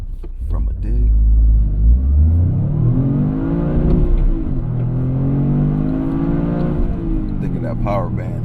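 A 2025 Toyota GR Corolla Premium Plus accelerates from a dig, its engine rising and falling in pitch through several gear changes, loud and close with a steady rumble. A voice talks over it throughout.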